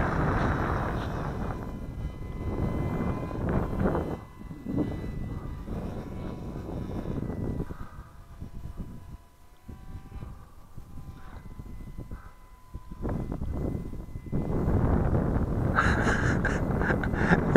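Wind gusts buffet the microphone across an open field, loud rumbling bursts coming and going with quieter gaps, while a small RC airplane's motor whines faintly in the distance.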